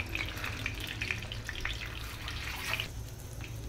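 Paneer pieces fry in hot oil in a pan, a continuous soft sizzle with small bubbling pops and crackles, fairly quiet and close, with no talking.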